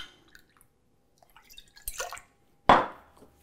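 Lime juice is poured into a cocktail mix for a Bow and Arrow, a short liquid splash that comes after a few faint clinks and light handling noises. No one talks.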